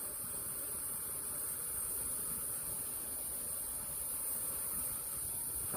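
Ghee-basted tandoori chicken pieces roast on a tandoor, giving a soft, steady hiss and crackle that stays faint and even throughout, with no talking.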